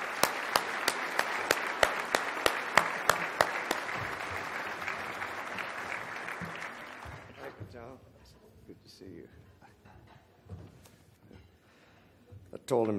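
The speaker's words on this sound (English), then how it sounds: "please join me in a big round of applause for John and Silver Eagle" Applause fills a formal dinner hall, dense clapping that holds steady for about seven seconds and then fades out, leaving faint murmuring and room noise, with a brief swell at the end.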